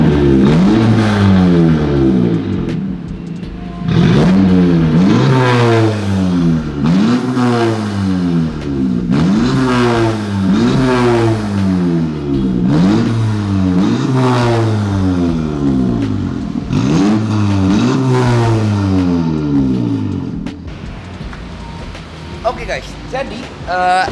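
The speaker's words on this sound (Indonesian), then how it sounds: "Itu adalah suara knalpotnya yang kita bikin sendiri." A Honda Civic Turbo Type R with a homemade custom exhaust revs repeatedly nearby, each throttle blip rising and falling in a steady rhythm of about a dozen pulls.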